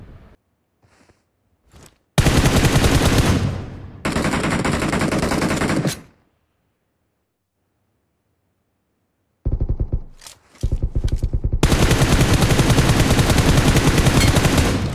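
Heavy automatic gunfire in the BGMI battle royale mobile game, coming in two long, loud, rapid bursts split by near silence, with short scattered shots in between.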